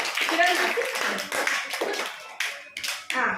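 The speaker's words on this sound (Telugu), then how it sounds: "claps to Moeen" A small group of schoolchildren clap for a classmate in a classroom, with quick, uneven claps that mix with voices chattering over them.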